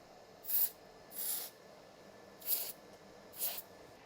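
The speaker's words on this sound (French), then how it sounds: "une bombe de froid" Freeze spray is sprayed onto a chocolate Easter egg in four short hissing bursts, fairly close and separated by brief pauses.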